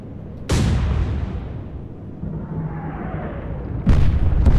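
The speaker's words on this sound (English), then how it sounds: "Another engine explosion." Ship engine explosions in the Atlantic Fleet naval video game: two loud sharp booms, each followed by a long rumbling roar that fades, with no talk.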